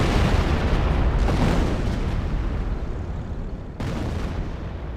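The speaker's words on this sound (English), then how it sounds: "And a Creeping Barrage." Continuous rumbling barrage of artillery explosions from a creeping barrage in Company of Heroes, dense overlapping booms at steady loudness for several seconds with a brief dip near the end.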